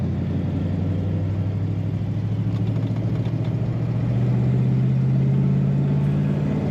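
A 1960 Cadillac Series 62 convertible drives along with a steady, low engine rumble and road noise, loud and continuous with no voices.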